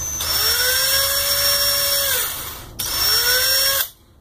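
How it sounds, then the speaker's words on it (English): A power drill whirs at high speed with its bit running in reverse, in two long bursts, winding down briefly between them before cutting off, loud and close. "I wouldn't recommend drilling right into your finger."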